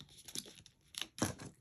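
A paper bag being folded and burnished into a hinge for a mini album, making a few soft crinkles and sharper paper crackles up close, one louder crisp crease near the end.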